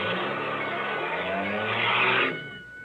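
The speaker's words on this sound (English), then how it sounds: "You stalled the car." A car stalling on a railroad track for a radio drama sound effect: a steady, loud engine roar rises slightly, then cuts off and fades near the end, with no talking over it.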